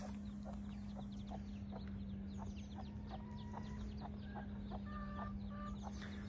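A mother hen leads a brood of around fifteen chicks outdoors, giving soft repeated clucks amid high, quick chick peeps, fairly faint over a steady low background hum, with no talk.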